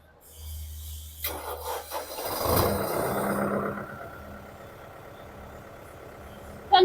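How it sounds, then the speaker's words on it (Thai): A 2020 Kubota MU5702 tractor's diesel engine idles with a low, steady rumble after a brief clatter of handling noises, running evenly and close by. "ส่วนเสียงเครื่องยนต์ คันนี้นะคะ"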